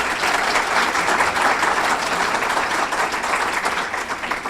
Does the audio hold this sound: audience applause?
yes